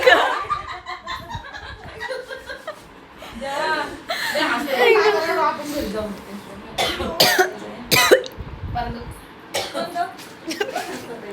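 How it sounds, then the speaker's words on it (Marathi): A woman coughs a few times at a lively home mehndi gathering before a wedding, with short harsh bursts close by, mixed with chuckles and chatter from others. "अगं असून खोकला आला ना तुला"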